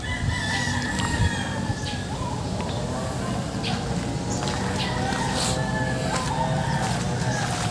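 A young gamecock stag crows among other fowl on a farm, with a steady background of clucking and bird calls and someone speaking faintly at times.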